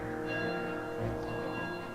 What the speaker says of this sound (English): that's the bell for the wing ceremony